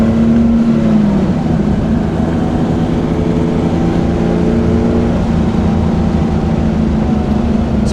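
A 1985 Porsche 911 3.2 with its air-cooled flat-six, heard from inside while cornering on a drive, gives a loud, steady engine drone with rising and falling pitch as it pulls through the bends. No one speaks.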